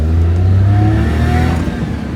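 A 20-to-22-year-old Maruti 800 engine accelerating in gear while being driven, with a loud, close, steady hum whose pitch climbs gradually before it levels off, and no talk over it.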